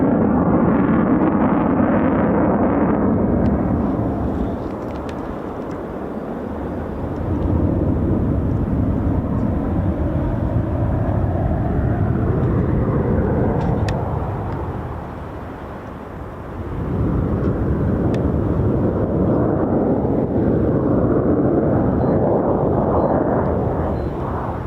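US Air Force F-15 and F-35 fighter jets of the 48th Fighter Wing fly over RAF Lakenheath with a loud, continuous roar that dips briefly twice and then surges again, sustained and close throughout.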